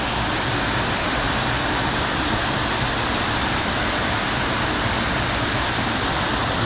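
A river rushes toward a waterfall, a dense, unbroken roar of water that stays loud and constant throughout, with no voices.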